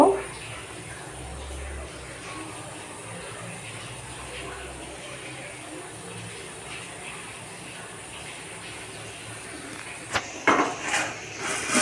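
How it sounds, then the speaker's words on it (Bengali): Water boiling in a pot for Maggi noodles gives a steady, close rushing bubble that runs unbroken for most of the time, then a few louder clatters and splashes near the end. "জল ফুটে গেছে, ম্যাগিটাকে দিয়ে দিলাম"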